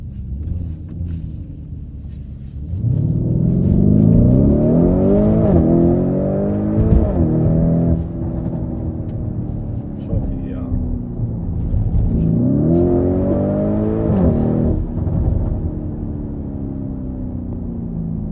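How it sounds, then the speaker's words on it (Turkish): A Lamborghini Urus engine revs up and down loudly in two long surges, with faint crackling pops from the exhaust. "Egzoz da patlatıyor arkadaşlar."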